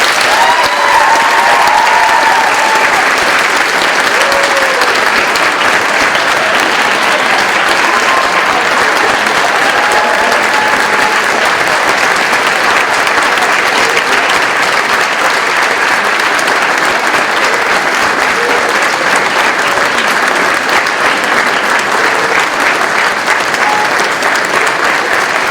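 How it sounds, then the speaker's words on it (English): At a high school Veterans Day ceremony, a large audience claps for the veterans in one loud, dense, unbroken round of applause that fills the hall for about twenty-five seconds. "Please welcome these veterans with a round of applause"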